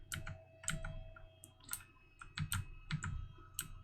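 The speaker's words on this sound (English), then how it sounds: "All you can hear is like the clicking of my horrible keyboard." A cheap computer keyboard being typed on, irregular light clicks and key taps in short clusters, close but quiet over a faint steady hum, with no talk.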